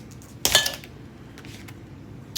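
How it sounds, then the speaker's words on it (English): A kitchen knife snaps while cutting cabbage, a single sharp metallic clatter up close followed by faint scraping and quiet handling sounds. "And I just broke a knife."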